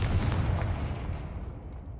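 Bombarda and Confringo explosive spells going off in the Hogwarts Legacy video game, a loud, dense booming blast that rumbles and slowly fades over two seconds, with no talking.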